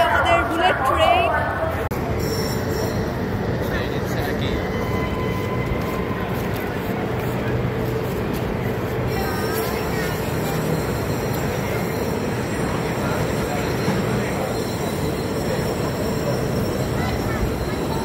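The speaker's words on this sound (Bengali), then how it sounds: "তো এই হচ্ছে আমাদের বুলেট ট্রেন।" A Chinese bullet train on the Beijing to Guangzhou route waits at the station. A continuous rumbling hum of the train fills a large hall, with people talking throughout.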